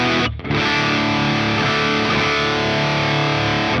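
Electric guitar through a cranked Marshall JCM800 amp with a Naomi Ultimate Drive pedal in front, a thick, saturated distorted chord ringing out loud and sustained after a quick initial strum.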